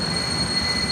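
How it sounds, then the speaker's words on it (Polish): A train rolls past a winter carp-fishing spot in January, a steady loud rumble of wagons with metallic rail noise and a faint high squeal running through the whole moment, with no talking. "No, znowu pociąg jedzie."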